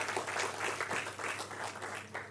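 Faint, steady clapping from an audience at an inaugural academic evening honouring a professor, a short even patter with no voices over it.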